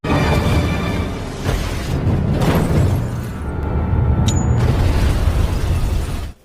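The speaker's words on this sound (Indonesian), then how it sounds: "dilempari granat hingga mobil itu meledak seketika" A loud, sustained explosive roar as a car blows up from thrown grenades, with rumbling booms and crackling debris continuing throughout before cutting off abruptly.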